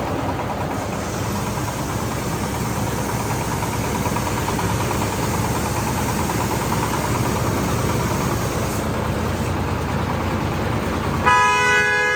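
A truck's loud engine rumbles steadily while its horn blares almost continuously over it, with a brief higher honk near the end.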